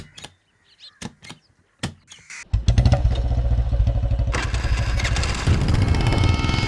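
A motorcycle engine is cranked a few times in short bursts, then catches and settles into a steady, loud idle close by that continues to the end.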